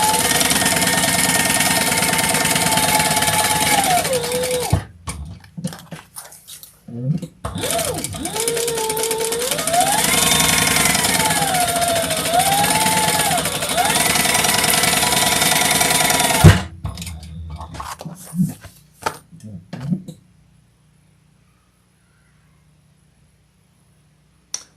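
A sewing machine stitching fabric with a steady motorised whir that speeds up and slows for about sixteen seconds, then halts, followed by a few light handling knocks and silence.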